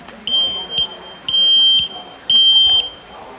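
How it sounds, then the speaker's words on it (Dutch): A household smoke detector sounds during a residential fire-safety drill, giving three loud, piercing high beeps at an even pace with short gaps of quieter room noise between them. "Hier gaat de rookmelder weer af."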